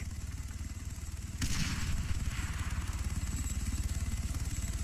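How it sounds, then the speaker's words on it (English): A grenade explodes in the military shooter Arma 3 with one sudden sharp blast, then a continuous pulsing engine-like rumble runs underneath. "Grenade!"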